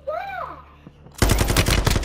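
LMG machine-gun fire in a Warzone (MWII) match, a loud, rapid sustained burst of close automatic shots that cuts in abruptly after a second of quieter game sounds and runs to the end.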